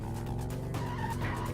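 In a racing video game a car engine hums steadily while the tires skid and squeal, loud and continuous with no voices over it.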